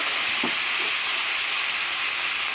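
Beans and potatoes frying in a pan, a steady loud sizzle and hiss throughout with a brief scrape of stirring near the start, no talk.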